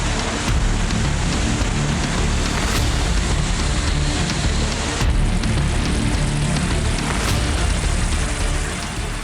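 Heavy rain falling in a dense, steady broadband hiss with faint scattered impacts, loud and unbroken throughout, no voices.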